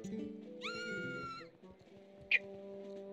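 A cat meowing in the video game Twilight Princess, one drawn-out meow followed by a short, high squeak, over a low game music and ambience bed.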